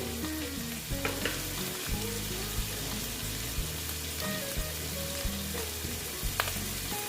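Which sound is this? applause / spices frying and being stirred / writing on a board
spices frying and being stirred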